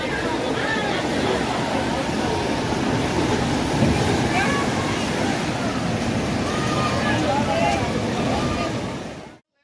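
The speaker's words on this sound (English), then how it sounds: "And the noise? It's like the roar of the ocean." Powerful floodwater roars continuously after heavy rainfall near a bridge in India, a loud, dense rushing wash that holds steady for several seconds before cutting off abruptly.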